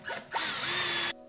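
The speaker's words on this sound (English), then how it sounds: "And drill through your marked spot." A power drill bores a hole through a wooden picture frame: two short bursts as the bit starts, then a steady, loud, close whine for under a second before it cuts off.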